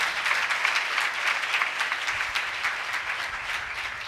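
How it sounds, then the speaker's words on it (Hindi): A church congregation claps loudly in praise of God, a dense, steady wash of applause from many hands that holds evenly for several seconds with no voices on top. "ऐसे खुदा के लिए जोरदार तालियां बजाएं।"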